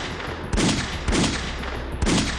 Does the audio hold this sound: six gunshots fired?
yes